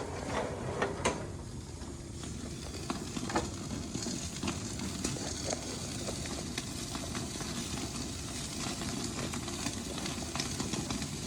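A steak sears on a Blazing Bull Schwank grill, giving a steady, even sizzle that holds at a constant level throughout, with a few faint clicks and no talking.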